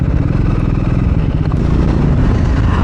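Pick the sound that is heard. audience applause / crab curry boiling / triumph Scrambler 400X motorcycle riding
triumph Scrambler 400X motorcycle riding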